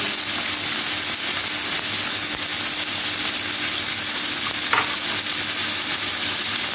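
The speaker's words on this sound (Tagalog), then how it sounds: "Lagay na natin ang alamang." Shrimp paste (alamang) fries in a pan with chili and mustard greens, giving a loud, steady, close sizzle that runs unbroken throughout with no voices.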